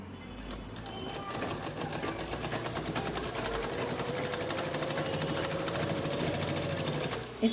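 A sewing machine runs steadily while a V-neck frock is stitched, giving a continuous close whirring rattle that lasts throughout with barely a pause, over a soft background hum.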